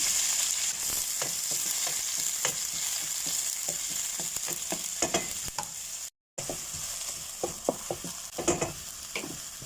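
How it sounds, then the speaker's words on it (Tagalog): Garlic sautéing in hot oil for pancit bihon, a steady close sizzle with repeated sharp crackles and utensil scrapes, continuous apart from a momentary cut to silence. "nagpainit na ako ng mantika. Ilagay natin ang bawang."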